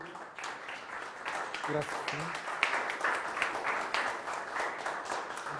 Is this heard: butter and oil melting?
no